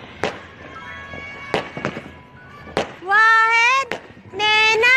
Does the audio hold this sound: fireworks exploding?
yes